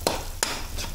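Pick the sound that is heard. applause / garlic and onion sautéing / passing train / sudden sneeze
garlic and onion sautéing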